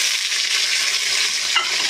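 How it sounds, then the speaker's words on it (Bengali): Potato pieces frying in hot oil in a wok make a steady, close hiss with faint stirring scrapes, one brief brighter crackle near the end, with no voices. "আলুটা একটুখানি ভাজবো"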